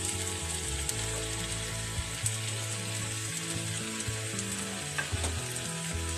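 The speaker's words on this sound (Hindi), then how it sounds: "अब हम इसमें अपनी सब्जियां डालेंगे।" Mixed vegetables such as cauliflower, beans and capsicum fry in a cooked masala, giving a loud, continuous sizzle with occasional scraping stir sounds, close up and without voices.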